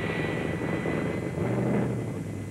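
The Chi-Town Hustler, a Dodge Challenger drag car, roars down the strip at Bristol International Raceway in 1972, a dense, loud, continuous engine scream lasting throughout with no pause.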